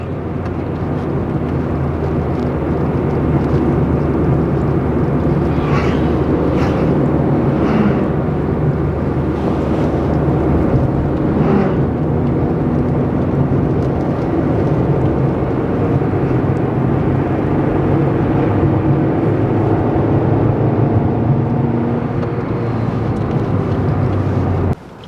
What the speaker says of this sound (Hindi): आप सुन पा रहे होंगे 4थे गियर पर है और कार काफ़ी अच्छी पुल कर